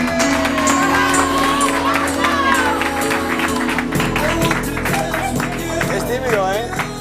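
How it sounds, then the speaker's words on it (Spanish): Studio audience on a Spanish television show applauding and cheering, a dense roar of clapping and voices under loud music and chatter, near and continuous throughout. "¡Fuerte aplauso para Rebeca!"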